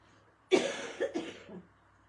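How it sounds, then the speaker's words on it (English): A single sharp cough bursts out, followed by a couple of softer, rough coughing sounds, close by, then quiet. "when I cough, my whole body just hurts"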